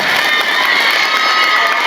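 Loud, dense crowd noise from an audience of schoolchildren and adults at a government school event, cheering and clapping for their headmaster and teachers, filling the whole moment without pause.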